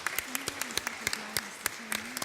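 Audience applause closing a session at a leaders' summit in Oxford, a short burst of scattered, fairly light clapping from a room of people, with a faint tone and some background voices underneath.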